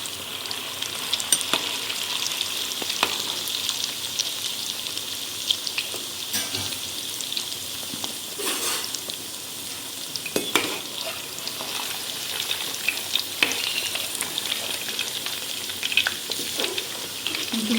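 Vegetable Manchurian balls deep frying in hot oil, a steady loud sizzle and bubbling throughout with occasional stirring clinks, no voices.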